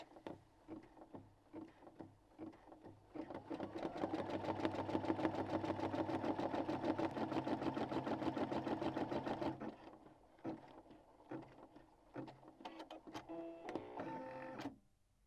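An embroidery machine stitching a patch on hooped fabric with stabilizer, a fast, steady mechanical whirring and rapid needle pulsing that rises, runs continuously, then stops, followed by start-stop bursts and clicks.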